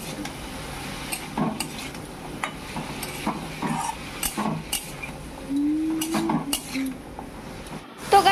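Radish frying with spice paste in a pan, stirred with a metal utensil that clinks and scrapes against the pan in irregular strokes over a faint sizzle, close and moderately quiet.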